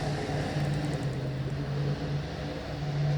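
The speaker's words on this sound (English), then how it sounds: "loud truck going by." A loud engine drones with a steady low hum throughout, like a heavy truck rolling past nearby.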